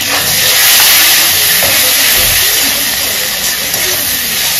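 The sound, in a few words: tomatoes added to hot pan, sizzling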